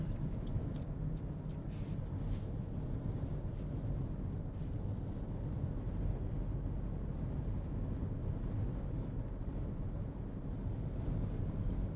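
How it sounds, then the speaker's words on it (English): Steady, heavy wind buffeting the microphone during a late-night lake effect snowstorm in western New York, a continuous low roar that stays loud and unbroken throughout. "it is windy again"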